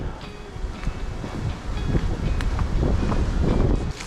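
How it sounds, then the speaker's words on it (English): Cold, frosty wind gusting hard against the microphone on a bush track, a rough buffeting rumble that swells toward the end, with no talk. "Oh, that wind is frosty."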